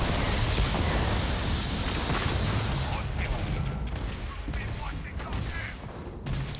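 Dense, continuous gunfire and battle noise from the video game Starfield, a thick roaring wash with scattered cracks of shots, loud and unbroken throughout.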